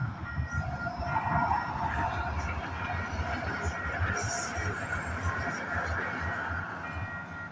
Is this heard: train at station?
yes